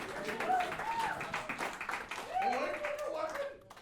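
Roast audience clapping steadily through a comedy stage show, with a voice talking over it and some cheering mixed in.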